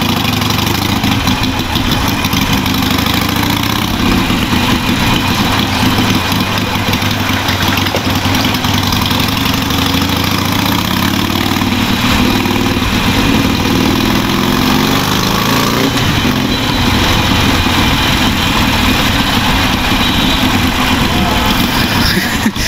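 A loud Harley-Davidson Iron 883 motorcycle engine runs continuously close by under a flyover, a steady rumbling drone that swells slightly midway, with no voices heard.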